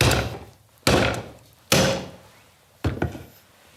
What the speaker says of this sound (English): what if I get a hammer and keep this thing in place and just hammer on it?